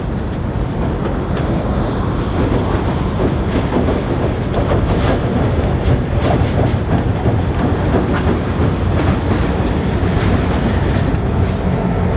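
SCFG freight train 566, bound for a cement plant on the Gaspésie railway in Quebec, rolls past with a loud, continuous rumble and steady rhythmic clatter of wheels on rail joints.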